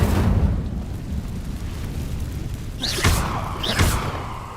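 Fire spells cast in the video game Hogwarts Legacy, two sharp whooshing bursts late on, each flaring bright and fading over a steady low rumble of game ambience.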